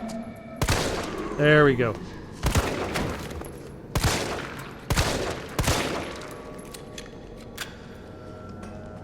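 Gunfire in the Resident Evil 3 Remake video game: several sharp, loud shots spaced a second or so apart, with a brief voice speaking between them.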